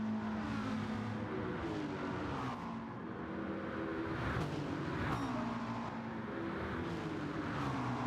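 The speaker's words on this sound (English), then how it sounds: "He seems to be revving out the McLaren." A McLaren race car in a racing video game, its engine revving high and steady with rising and falling pitch sweeps as it shifts through the gears, fairly quiet and close, with no talking.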